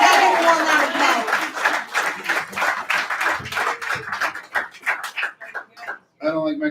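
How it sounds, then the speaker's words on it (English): Audience applause and cheering for a poet coming up at a Poets & Pints spoken-word night, loud and sustained with whoops and chatter mixed in. The noise thins out toward the end, and a voice follows after a short gap. "Y'all give him one round of applause."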